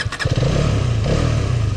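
A Hero Karizma XMR 2024 motorcycle engine runs loud and close, a brief rough burst at the start settling into a steady, throbbing idle with no voices.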